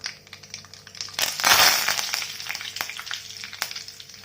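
Mustard seeds and curry leaves hit hot oil in a pan, a loud, close burst of spluttering sizzle that swells, then settles into scattered crackles and pops.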